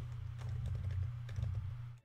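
Rapid clicking of computer keyboard keys during a Gems of War game stream, irregular soft taps in a continuous flurry over a steady low hum, fairly quiet and without talking.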